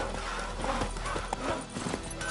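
The horse Roach gallops in The Witcher 3, its hooves beating in a steady, fast clip-clop rhythm over a continuous bed of ambient game sound, moderately close and unbroken by speech.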